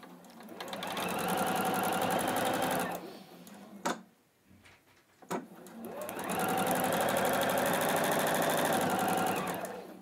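A sewing machine stitches a quilt block in a long, steady, loud run of rapid stitching, stops briefly with a couple of clicks, then starts again for another sustained burst.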